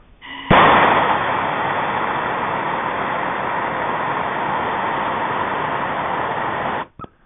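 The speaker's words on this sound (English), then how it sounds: "Look at that plastic burning by itself." A clogged 3D printer nozzle being burned clean, with plastic burning in a torch flame: a loud, steady roaring hiss starts abruptly, holds evenly for about six seconds, then cuts off.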